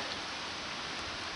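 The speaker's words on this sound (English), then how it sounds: "it's starting to rain and we're getting thunder." Steady rain hisses down on surfaces nearby, an even wash of falling drops with no voices.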